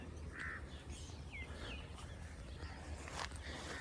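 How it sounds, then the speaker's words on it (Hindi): Scattered harsh caws from a crow, a few short calls at a distance over steady outdoor background noise. "कौवा का आवाज़"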